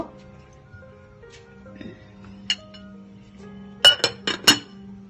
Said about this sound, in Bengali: এখন একটা ঢাকনা দিয়ে ঢেকে দেব